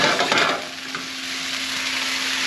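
Fresh baby portobello mushrooms fry in a hot pan, a steady bright sizzle with a quick burst of stirring scrapes at the start, then settling into an even hiss.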